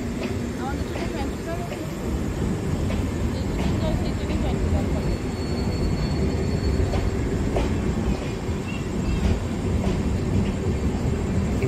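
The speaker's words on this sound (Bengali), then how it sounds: "ছেড়ে গেল ভারতের সব থেকে লম্বা ট্রেন" India's longest train, bound for Kanyakumari, pulls out of a station with continuous heavy rumbling and wheel clatter. Brief thin metallic squeals cut through midway while the steady roar carries on throughout.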